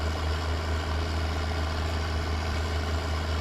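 A powerful farm tractor's engine idling in a farming simulator game, a steady loud low drone and rumble that runs unbroken throughout with no talking.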